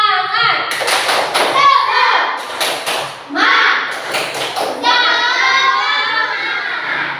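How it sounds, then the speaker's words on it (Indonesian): Schoolchildren doing a rhythmic spirit clap together in a classroom, bursts of group clapping and tapping mixed with a teacher and kids chanting loudly. "ayo kita tepuk semangat dulu ya"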